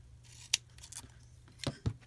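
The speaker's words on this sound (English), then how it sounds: "cut myself a piece of double-sided tape" Scissors cut a piece of double-sided tape close up, giving a quiet crisp snip and two more clicks against faint rustling.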